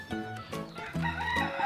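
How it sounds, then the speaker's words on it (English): A rooster crows on St. John in the US Virgin Islands, a loud, close cock-a-doodle-doo with a couple of stuttering notes and clucks, heard alone without talk. "The rooster's not afraid of you, so you know it."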